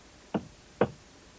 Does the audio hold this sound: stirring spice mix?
no